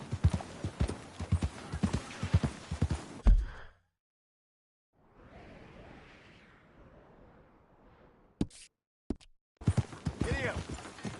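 Horse hooves clip-clop at a gallop in a PS4 video game, rhythmic and close in two stretches with a quiet gap between, with voices and game sounds mixed in.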